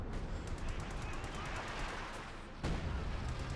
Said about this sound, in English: Oh, he's actually calling artillery.